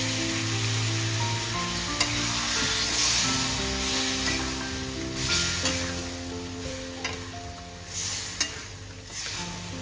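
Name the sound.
water poured into sizzling pan of cooking spices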